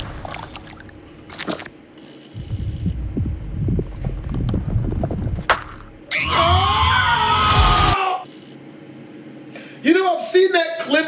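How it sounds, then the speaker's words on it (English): A girl's blood-curdling scream from the Wreck-It Ralph 2 trailer, loud, shrill and sustained for about two seconds amid busy trailer audio with voices and thumping sounds around it. "there's nothing mortifying enough to get that blood-curdling of a scream"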